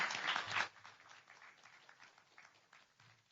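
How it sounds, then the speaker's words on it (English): Audience at a transportation competition award ceremony claps briefly, with a short burst of applause that quickly thins to scattered, faint claps. "That deserves a round of applause."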